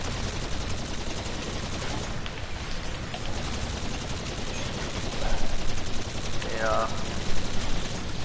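Dense, rapid gunfire rattles almost continuously in a shooter video game, loud and close, with bursts that swell toward the end while players talk over it.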